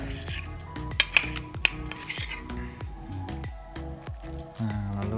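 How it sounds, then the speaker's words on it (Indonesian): A cooked egg cut into four pieces in a kitchen, a series of utensil clicks and clinks against a plate or pan over steady background music, close and fairly quiet, no voices. "Setelah jadi, kita potong 4 bagian telur tadi."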